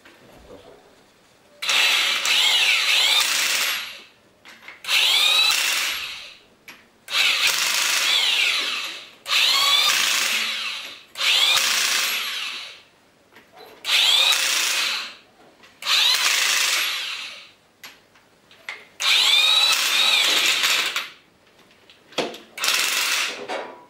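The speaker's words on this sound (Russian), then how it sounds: "Начинаю крутить гайки головки." A power tool tightens cylinder head nuts on a YaMZ-238 diesel engine, running in about ten loud, close bursts of a few seconds each, separated by short pauses.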